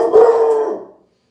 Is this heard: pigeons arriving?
no